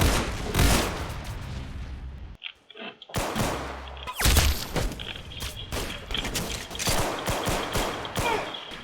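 Rapid gunfire from a sniper rifle in the shooter game Arsenal crackles in dense bursts, close and loud, with a brief silent gap before shots resume.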